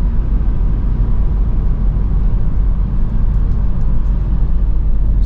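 A car engine drones steadily at low speed on a foggy rural road, with a loud, constant rumble throughout and no voices.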